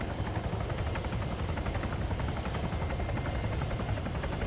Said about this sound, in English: the helicopter will naturally want to fall out the sky